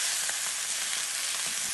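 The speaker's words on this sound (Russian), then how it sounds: "Мы обжариваем мясо 2-3 минутки с одной стороны, потом переворачиваем." Chicken pieces frying in a pan for pilaf give a steady, fairly quiet sizzle with a broad hiss and a few faint crackles, heard alone without talk.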